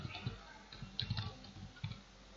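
Soft typing on a computer keyboard, faint scattered key clicks in small irregular clusters over a quiet background, close by with no talking.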